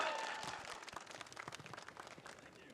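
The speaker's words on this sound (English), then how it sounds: "And round of applause for Huhi once more" Audience applause for player Huhi at an LCS esports match, a thick wash of clapping that starts full and slowly thins into scattered claps, fairly faint and distant.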